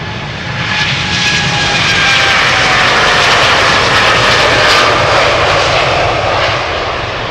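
A two-year-old Boeing 787-8 jet airliner takes off at Amsterdam Schiphol Airport, its engines giving a loud, steady broadband roar that swells slightly mid-pass and holds throughout, with no voices.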